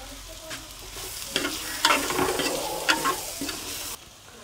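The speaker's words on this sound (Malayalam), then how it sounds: "അതിന് ശേഷം നമുക്ക് തുറന്ന് ഇളക്കി കൊടുക്കാം." A Kerala-style fish head curry being stirred in a pan, soft bubbling sizzle with several scraping strokes of a spoon, close and fairly quiet, no talk.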